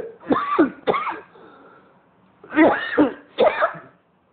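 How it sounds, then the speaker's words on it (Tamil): Four harsh coughs, a close pair followed by a pause and then another pair, loud and near. "நீ இருமின் இருக்காய்"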